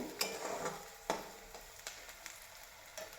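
Onion frying in oil on a low flame for brinjal bharit, a steady close sizzle with soft spatula scrapes and light taps at a loose rhythm.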